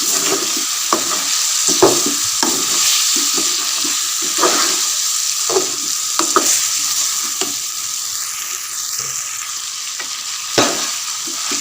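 Chicken seasoned with red chilli sizzles in a frying pan while a spoon stirs it, steady frying hiss broken by repeated scraping clicks, close and fairly loud, no talking.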